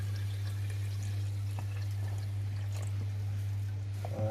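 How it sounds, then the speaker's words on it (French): A liquid solution pours slowly and steadily, a soft continuous trickle over a constant low hum, with no voices. "Il suffit de la verser doucement."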